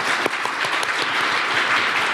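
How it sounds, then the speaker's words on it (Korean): A crowd claps steadily and fairly loudly in a brief burst of applause, dense and even with no voices. "큰 박수 부탁드립니다"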